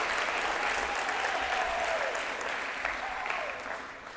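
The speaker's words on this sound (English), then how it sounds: "Give yourselves and all of us a round of applause" Audience applause at a university graduation ceremony, a steady wash of many hands clapping from a large crowd, sustained throughout and easing slightly toward the end.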